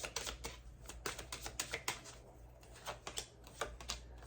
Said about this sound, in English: You did hear me shuffle.